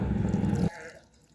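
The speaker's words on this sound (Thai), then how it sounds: "เดี๋ยวเราก็ลดน้ำ ที่ต้นตะไคร้เรา" Water poured onto a freshly planted lemongrass stalk in soil: a brief, full splashing gush that cuts off abruptly, leaving a faint trickle fading out.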